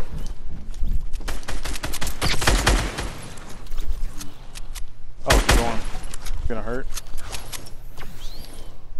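Gunfire crackles in a video game squad battle, with bursts of shots around the middle and two loud, sharp volleys near the start and middle, mixed with footsteps and clatter while players talk over it.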